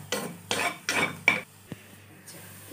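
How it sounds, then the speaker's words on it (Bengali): Greens being stirred in oil in a pan while making kachur shak, which uses taro leaves with coconut powder, heard as a few separate scraping clatters of a spoon against the pan, close and fairly loud, with no talk. "তেলের মধ্যে দিয়ে দিচ্ছি, আর একটু দেবো, দিয়ে দিলাম, দিয়ে জাস্ট একটু নেড়ে দিচ্ছি।"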